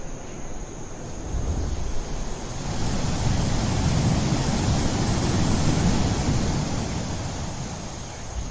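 A waterfall sound effect laid over drone footage gives a steady, full rushing roar of falling water that swells slightly and stays constant, with no voices.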